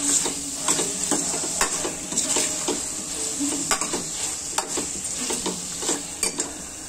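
Kurma bhaji mixture roasting in a pan, with a continuous sizzle broken by repeated scraping and clinking strokes of a spoon against the metal pan, near and fairly loud.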